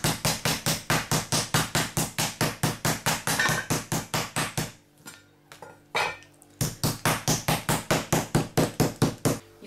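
Rapid, steady thuds of a meat mallet pounding pork chops on a board, about four blows a second, pausing briefly before the pounding resumes.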